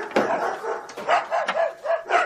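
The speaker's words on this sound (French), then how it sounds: "Ah, mais là, pourquoi il jappe les deux?" Two dogs bark and yip in a row of short, excited barks, close and fairly loud, overlapping in quick succession with no talking.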